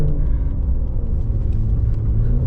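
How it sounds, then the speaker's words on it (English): A Porsche 911 Dakar engine rumbles loud and close, a steady deep roar as it accelerates hard under launch control in rally mode, with no voices. "Launch control in rally mode in the 911 Dakar."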